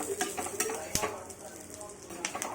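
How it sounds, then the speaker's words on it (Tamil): Fried valaka (raw banana) with curry leaves is stirred in a pan, giving a run of soft, close scrapes and light metallic clinks of a spoon on the pan over a faint sizzle. "கருவேப்பிலை போட்டுட்டு எல்லாத்தையும் சேர்த்து மிக்ஸ் பண்ணிக்கலாம்."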